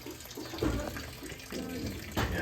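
Water drains from a hot water heater, flowing and splashing steadily at close range with irregular gurgling surges and bumps, with no one talking.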